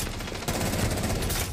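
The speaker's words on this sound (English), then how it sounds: "Yeah, I'm gonna fire" Rapid bursts of gunfire from a Rainbow Six match crackle in a dense, continuous volley, loud and close, with no talk over them.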